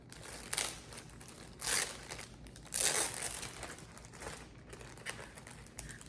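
Plastic packaging crinkles and crunches up close in several loud bursts with quieter rustling between them.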